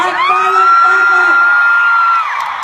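A concert audience at a JaDine fan event in Singapore lets out a sustained, loud high-pitched whoop and scream as a crowd roar swells and then eases.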